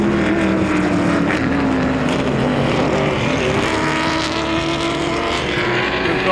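V8 race cars roar around a circuit in a New Zealand Tranzam Challenge race, with a steady, loud, continuous engine drone that rises and falls slightly as the cars pass.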